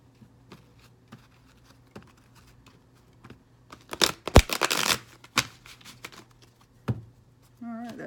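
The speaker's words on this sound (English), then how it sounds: "One more shuffle." Tarot cards shuffled by hand produce soft scattered riffles and taps, with a dense louder burst of shuffling in the middle and a few isolated flicks around it in a quiet room.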